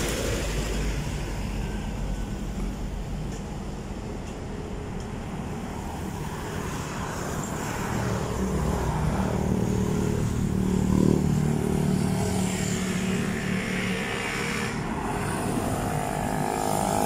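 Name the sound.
fast cars passing on a road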